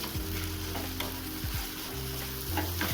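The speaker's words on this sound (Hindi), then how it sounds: "तो चलिए इसे थोड़ी देर अच्छे से भून लेते हैं, थोड़ी सी सौंधी सौंधी खुशबू आने तक।" Potato samosa filling roasting in a pan, a continuous close sizzle with stirring scrapes, while a low droning hum runs underneath throughout.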